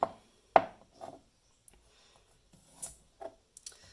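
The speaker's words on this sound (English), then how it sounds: "So to mince garlic, you need to first cut it into strips and then cut those strips into matchsticks, right?" A knife chops garlic on a cutting board in a few sparse, crisp taps with short pauses between them, close and fairly quiet in an otherwise still room.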